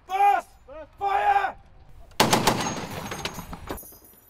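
Live gunfire on an army training range in Dorset: after two loud shouted commands, a burst of sharp rifle shots cracks out, several reports in quick irregular succession over about two seconds, close and loud.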